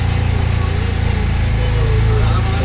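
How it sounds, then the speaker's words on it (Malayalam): Boat engine running steadily on the water near Poovar Island, a continuous low droning hum that stays loud and close throughout. "വേറെ ബോട്ട് വരുന്നുണ്ടല്ലോ. വേറെ ബോട്ടുകള് ഇങ്ങോട്ട് വരുന്നുണ്ട്."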